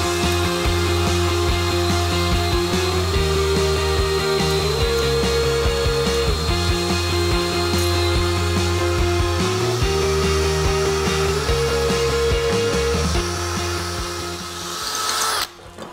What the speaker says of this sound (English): the burr is actually acting like a miniature chisel right now, chiseling away the excess wood and creating your dowel